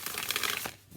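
A Modern Love tarot card deck is shuffled by hand, giving a quick burst of crisp papery riffling that fades out within a second.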